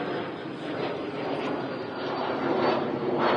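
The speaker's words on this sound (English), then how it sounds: "Emirates is on the taxi." An Emirates airliner taxiing at Manchester Airport gives a steady, broad engine roar at moderate distance, swelling slightly toward the end, with no talk over it.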